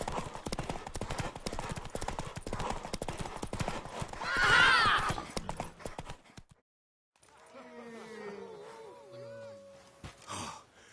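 Steady rapid hoofbeats of a galloping horse with a rush of wind in a horse race in the video game The Witcher 3, then a pause and a horse whinnying and snorting.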